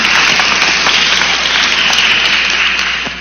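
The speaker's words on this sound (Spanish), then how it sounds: "Y un aplauso para Jacobo Ramos Palomino." A forum audience applauds a speaker at a cultural education event, with dense, loud, sustained clapping that holds steady and then begins to fade near the end.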